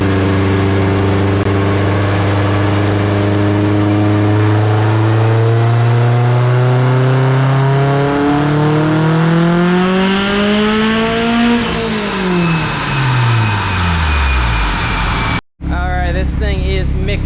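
A Subaru WRX with a hybrid block engine revs hard through a pull on a dyno, pitch climbing steadily to a loud peak, then dropping away sharply before it cuts off near the end.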